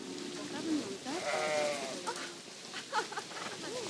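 Sheep bleating in the Planet Zoo video game, a few wavering bleats over low background ambience, with a voice talking in between.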